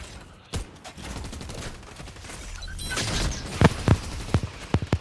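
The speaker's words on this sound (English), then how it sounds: "Easter egg launcher!" Rapid bursts of game weapon fire from the Easter egg launcher in Fortnite, a cluster of sharp pops and thuds building into a dense volley then several loud separate shots near the end, with no voices.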